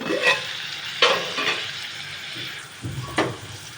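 Dalcha simmers in oil in a pan with a soft, steady sizzle, broken by a few distinct scraping stirs of a spoon against the pan, close and clear with no voices.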